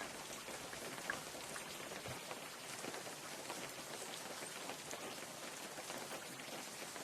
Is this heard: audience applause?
no